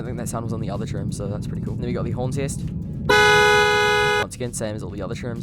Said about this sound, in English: And then we got the horn test.